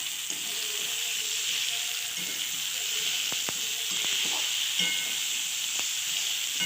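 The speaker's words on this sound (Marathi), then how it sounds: "संपूर्ण वड्या हे मुटकळे याच्यातच फ्राय करू करून घेणार आहात" Fenugreek and bottle gourd dumplings (mutkale) fry with turmeric in a pan, giving a steady close sizzling hiss throughout with a few soft stirring clicks and no voices.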